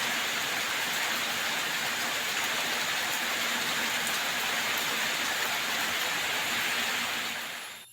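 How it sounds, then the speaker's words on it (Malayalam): Heavy rain pours steadily in a village setting, a dense, even hiss of drops that holds for several seconds with no voices before it cuts off. "പക്ഷെ ആ ഒരു സമയമാകുമ്പോഴത്തേക്ക് നല്ല മഴ അങ്ങോട്ട് വന്നു"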